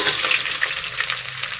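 Onions, green chillies and whole spices for vegetable pulao frying in a hot pan, a steady close sizzle with scraping stir strokes over it.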